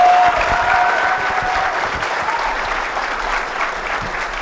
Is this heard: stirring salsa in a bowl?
no